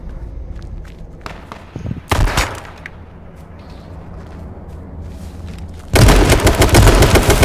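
Shotgun blasts in H1Z1, a couple of sharp booming shots followed by a loud, dense burst of firing at the end, close and punchy over low background noise.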